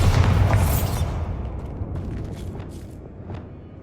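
A Bombarda blast spell in Hogwarts Legacy, one heavy booming explosion at the start with a bright crack that rumbles and fades into a lingering low roar and scattered debris.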